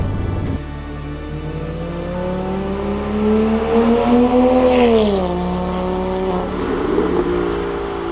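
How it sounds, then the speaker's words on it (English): A flat-six petrol engine revs up and holds a rising, throaty note, then drops back as it shifts, loud and close with no talking. "Burning petrol, listening to that flat six."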